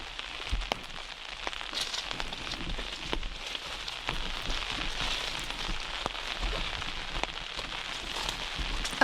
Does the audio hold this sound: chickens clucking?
no